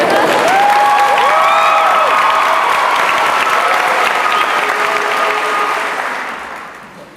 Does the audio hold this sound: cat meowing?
no